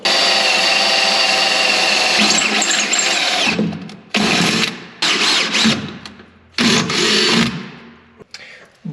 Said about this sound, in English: drill some holes in the bottom of the truck